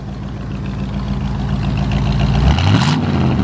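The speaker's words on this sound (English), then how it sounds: "Got the ram's horn exhaust on there." A 1956 Chevrolet 150 with ram's horn exhaust manifolds and no headers idles with a deep, throaty exhaust rumble close by, then briefly revs up and settles back.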